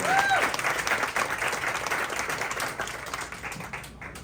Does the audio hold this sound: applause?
yes